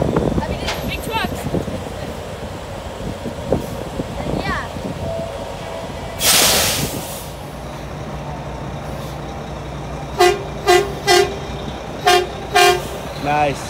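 Loud semi truck air horn honks nearby at a truck stop, one long blast followed by a series of short repeated toots, over steady road and engine noise.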